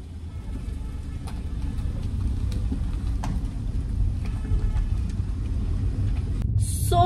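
A car is driven along a road, its low engine and tyre rumble steady and close from inside the cabin, with a few faint clicks and a brief rustle at the end.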